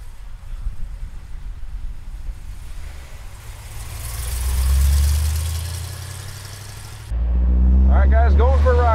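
A 1973 Chevrolet Camaro with a four-speed gearbox idles with a low, steady rumble that swells briefly midway, then grows louder as a voice speaks over it near the end.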